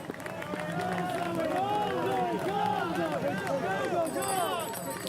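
Spectators at a UCI cyclo-cross World Cup women's elite race in Dublin cheer and shout continuously in a dense crowd roar, with voices rising and falling throughout.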